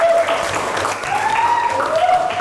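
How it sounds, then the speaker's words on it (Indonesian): A classroom of high school students applauds at a steady, dense level, with whistles or cheering voices rising over the continuous clapping. "beri tepuk tangan"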